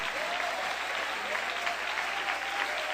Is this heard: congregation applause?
yes